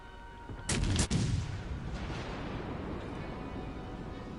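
Battleship main guns fire in World of Warships with a heavy booming salvo, two sharp reports close together, then a long rumbling roar that lingers over steady ambient sea and engine noise.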